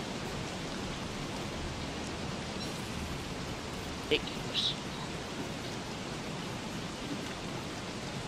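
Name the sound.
heavy rain in the video game Don't Starve Together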